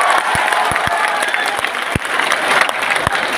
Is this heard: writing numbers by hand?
no